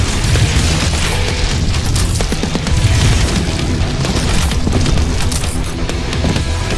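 Energy weapon in the shooter game Prodeus firing repeatedly in rapid booming bursts, loud and continuous, with dense explosive blasts layered throughout.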